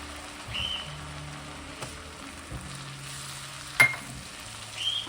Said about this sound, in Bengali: আর মশলাটা দিয়ে হাই ফ্লেমে 2 মিনিট একটু ভেজে নিচ্ছি।